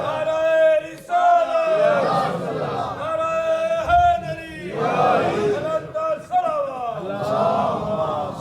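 A crowd at a Shia imambargah gathering chants religious slogans in unison. The voices come in loud, rhythmic bursts, one surge after another, with a dense throng of voices throughout.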